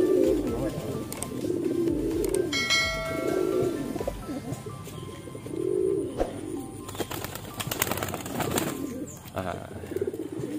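Pigeons coo in low, throaty repeated calls at close range, several rounds spaced a couple of seconds apart, with brief wing flutters and background voices of people talking nearby.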